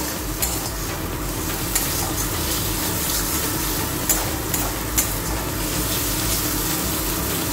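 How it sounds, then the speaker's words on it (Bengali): Garlic fries for dal in a pan with a constant loud sizzle, broken by a few sharp scrapes as it is stirred, with no voices. "তো রসুনটা দিয়ে একটু ভালো করে একটু ভাজা ভাজা করে নেব"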